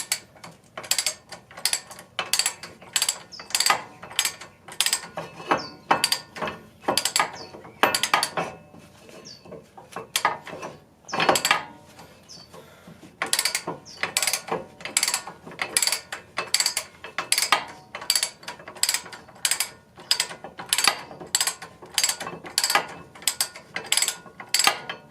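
A ratchet loosens a brake caliper bolt on a Lincoln Town Car. It gives rapid bursts of sharp metallic clicking, repeated in irregular runs with short pauses, close and fairly loud.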